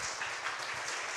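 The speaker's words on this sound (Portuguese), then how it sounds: "Uma salva de palmas do Senhor Jesus Cristo" Congregation applauding in church after a prayer, a steady wash of clapping at moderate distance, continuous for the whole short span with no voices.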